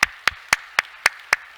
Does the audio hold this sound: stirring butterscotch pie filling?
no